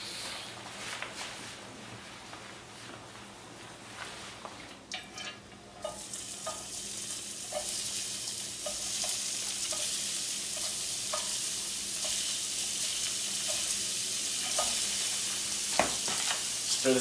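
Ground beef fries in a hot pan, with a steady sizzle that grows louder partway through and repeated scraping stir strokes in an irregular rhythm, close up.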